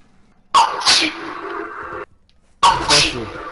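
Two loud sneezes close by, about two seconds apart, each a sharp burst trailing off, with a brief quiet gap between them.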